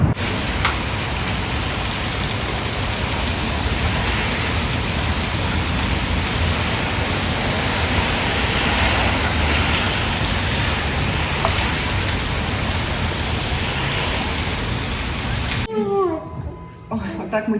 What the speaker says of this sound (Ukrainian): попали під дуже сильний дощ